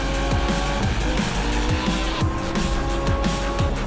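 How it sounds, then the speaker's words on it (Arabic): Racing cars in the mobile game Asphalt 8: Airborne, exotic Lamborghini and Ferrari types, roar steadily throughout with repeated short tyre squeals and skids over a dense, loud engine drone. "اللعبة رقم 3 أسفلت 8 ايرباور، من أشهر ألعاب السباق بالعالم، فيها سيارات عالمية مثل لامبورغيني وفيرار"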